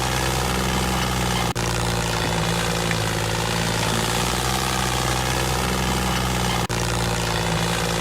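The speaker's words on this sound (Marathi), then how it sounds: "लोड जास्त असल्यामुळे ट्रॅक्टर उठू राहिला मित्रांनो हळूहळू" A New Holland 36 tractor engine labouring under a heavy load, a dense, continuous low rumble with steady harmonic drone, close and loud throughout with no voices.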